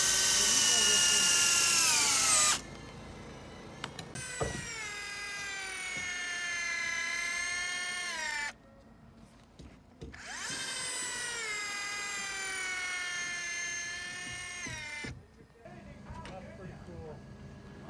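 A power driver sinks 6-inch log screws into the corners of an Amish-built log cabin in Arizona, three long rising whines of the motor under strain, close and loud, separated by brief pauses with some clatter.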